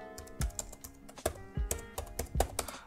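Typing on a computer keyboard: close, crisp keystrokes in uneven bursts, with a few heavier key presses standing out.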